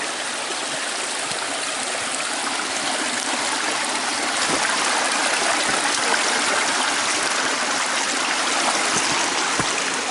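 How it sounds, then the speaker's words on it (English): Creek water flows continuously close by as someone crosses a creek near old mine workings, a loud, steady rushing babble with no talking. "Just crossing Bell's Reward Creek."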